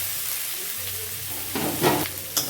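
Fish and vegetables fry with turmeric and spices in a hot pan for a curry of flat bean seeds and potato, giving a steady close sizzle with scraping stir strokes that swell near the end.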